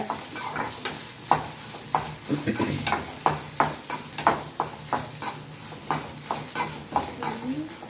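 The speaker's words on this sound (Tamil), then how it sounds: "அது பொன்னிறமாக ஆகிற அளவுக்கு வறுக்கிறாங்க." Ginger and garlic fry in a pan for a mint chutney, making a steady sizzle punctuated by a regular run of spatula scrapes and stirs about every half second.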